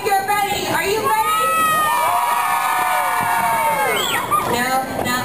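A crowd of children screams and cheers loudly and continuously at an indoor Hokey Pokey sing-along, with shrieks rising and falling and shouted whoops layered throughout.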